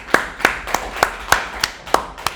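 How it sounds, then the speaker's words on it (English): Applause in a React programming class: about eight sharp, close claps in an even, unhurried rhythm, each crisp and distinct with brief gaps between, and no talking. "give yourselves a round of applause"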